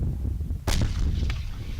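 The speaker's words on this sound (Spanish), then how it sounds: "La lluvia de cohetes y bombardeos en la Franja de Gaza no se detiene." Rocket fire and bombardment in the Gaza Strip, captured in news footage: a sharp, loud blast cracks out over a steady rumbling background, followed by a fainter second report about half a second later.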